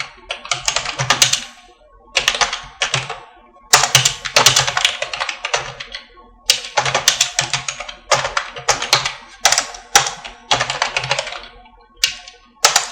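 Bursts of rapid typing on a computer keyboard, clattering in several separate runs with short pauses between them, close and fairly loud, with no talk over it.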